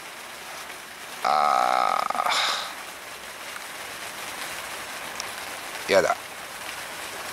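Rain patters steadily on a camping tarp at a campsite, a soft continuous hiss in the background, briefly covered by a louder rustle and a short spoken exclamation.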